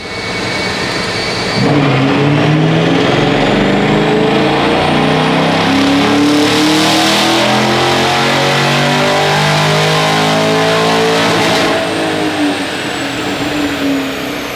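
A 2023 Chevrolet Camaro 1LE with a T93 transmission, freshly tuned, revs hard on a test run, its engine note rising and falling in loud sustained sweeps with no talk over it.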